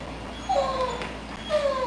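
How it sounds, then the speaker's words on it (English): Pet dogs in a home whine in two thin, high whimpers separated by a short pause, close and fairly clear over a quiet room tone. "Stay. Why are you fussing?"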